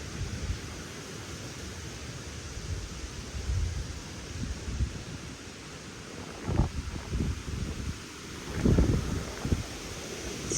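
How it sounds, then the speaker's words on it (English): Strong gusty wind roars through trees and buffets the microphone in a steady broadband rush, with low rumbling gusts swelling louder toward the end. "It's very windy today. You can hear from the trees. Maybe there is some noise on the microphone."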